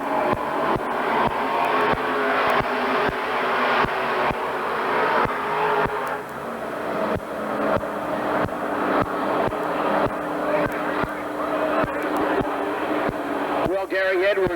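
Race cars at Oxford County Fair Speedway, 1991, motor down the back straightaway in a steady roar with repeated engine pulses and passing sweeps, loud and continuous, with a commentator talking over them.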